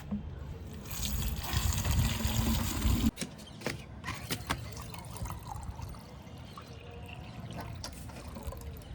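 Water runs and gurgles into a bottle for about three seconds, then stops, leaving faint clicks and handling noises in a quiet room.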